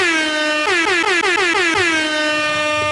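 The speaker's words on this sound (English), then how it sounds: "Where is my air horns? I got to get an air horn for that." A loud air horn blares in a sustained blast, then pulses in rapid repeated honks before holding again, with nothing else audible.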